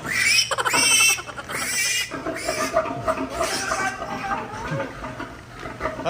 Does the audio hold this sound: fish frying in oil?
no